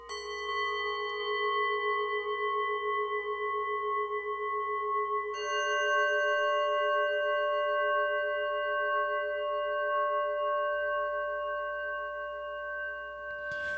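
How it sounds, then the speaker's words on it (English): Tibetan meditation singing bowls ring out in two strikes, the second coming midway. Each leaves a long, pure, shimmering tone with layered overtones that slowly decays, heard alone in quiet surroundings. "This is the sound of Tibetan singing bowls used for meditation."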